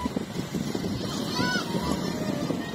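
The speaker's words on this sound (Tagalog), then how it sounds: "Ang lakas ng hangin dito" Strong wind buffets the microphone with a rough, gusting roar, while faint voices can be heard in the background.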